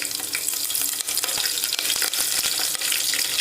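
Onions frying for chicken biryani, a continuous bright sizzle of oil with occasional stirring scrapes, close and steady with no talking.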